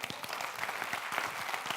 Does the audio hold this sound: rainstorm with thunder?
no